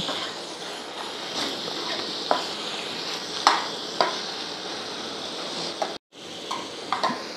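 Marinated chicken being stirred in a pan of gravy, soft steady sizzle with scattered spoon scrapes and knocks against the pot, a brief silent break near the end, with a voice talking faintly.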